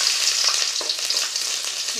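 Garlic cloves sizzling in hot oil: a steady, close-up crackling hiss that continues without pause.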